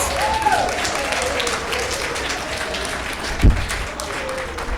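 Applause from an audience at a Scarborough transit panel discussion fills the room, a sustained, moderately loud clatter of many hands with one sharp thump partway through.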